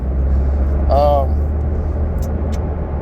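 Road traffic passes as a steady, loud low rumble throughout, with a brief higher tonal sound near the middle.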